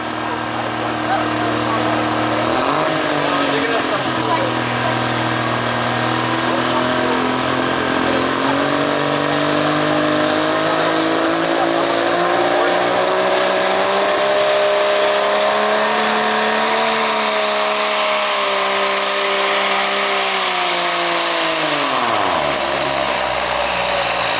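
A drag race car engine at the Odessa track spools up and revs loud and steady, its pitch rising and falling across a long run before dropping away at the end.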